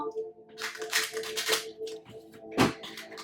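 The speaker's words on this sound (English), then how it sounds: "One more shuffle." Tarot cards riffle and flutter in quick close bursts, with a sharp snap near the end as the deck is squared.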